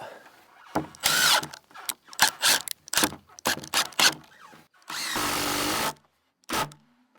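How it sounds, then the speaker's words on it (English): A power drill drives screws into wood while a roof is framed for an off-grid firewood shed. It gives a series of short, close whirring bursts and one longer sustained run, with handling clatter between them. "I'm just gonna put one screw on each end for now"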